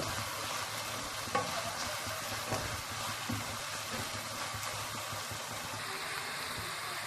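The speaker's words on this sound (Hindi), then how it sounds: "सारे स्पाइसेस एक साथ में ऐड करने हैं और इनको अच्छे से भुनाई करनी है" Spices are fried and stirred with beef keema for dum keema, giving a steady, fairly quiet sizzle throughout with soft stirring scrapes.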